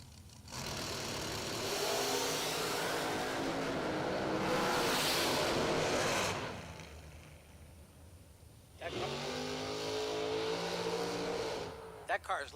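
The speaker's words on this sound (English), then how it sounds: "That car is loud from start to finish." A drag racing car blasts down the track at full throttle, a loud roaring engine that holds for several seconds, fades, then a second roaring pass surges in near the end.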